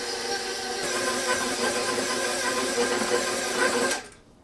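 A stand mixer fitted with a paddle beats dough in a home kitchen, a steady close motor whir with a rhythmic mechanical hum that cuts off abruptly near the end.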